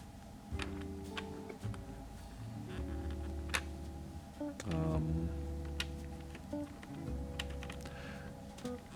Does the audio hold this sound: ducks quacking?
no